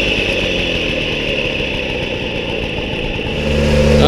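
A Motobécane AV 59 moped climbing a mountain pass road unpedalled, its small two-stroke engine buzzing in a steady loud drone close by, rising slightly in pitch near the end.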